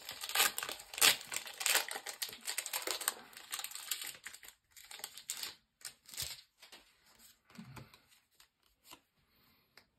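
A Pokémon TCG Brilliant Stars Charizard booster pack wrapper is torn open and handled. Loud, close foil crinkling and tearing in quick bursts settle into sparse, fainter rustles and small taps.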